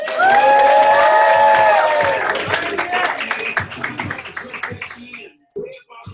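A crowd at a gathering bursts into loud, sustained applause and cheering with whoops and shouts, close and full, then thins into scattered claps over about six seconds.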